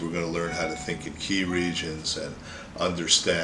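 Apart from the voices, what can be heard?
No distinct noise like a dog, phone or traffic.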